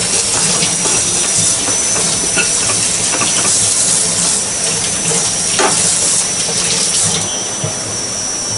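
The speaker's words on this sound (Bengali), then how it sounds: "দিয়ে দিচ্ছি সামান্য পরিমাণ জল, তা না হলে মশলাগুলো পুড়ে যাবে।" Water poured into spice masala frying in a pan, a loud, steady hiss and sizzle that fills the whole stretch without letup.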